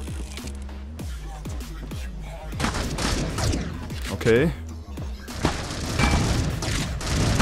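Shotgun and AK-47 gunfire in the mobile shooter Critical Ops, a dense run of shots and bursts with booming impacts through a multiplayer round, while someone talks briefly over it.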